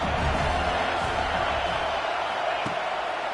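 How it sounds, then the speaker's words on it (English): Crowd roar swells in a Tennessee versus USC game of the NCAA 26 college football video game on a third-down defensive stand, a loud continuous stadium din with a couple of faint thumps and no talk over it. "Decibels rising as the crowd gets behind this defense on 3rd down."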